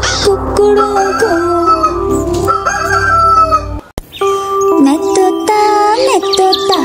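A rooster crow in a children's animal-sound song, with sung vocals and music carrying the cock-a-doodle-doo pattern, loud and close throughout; the crowing may be a voice imitating the rooster.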